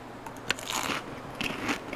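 Crunchy food being eaten in the survival video game The Long Dark: several sharp, close bites and crackling crunches, irregular chewing over about two seconds, no talk.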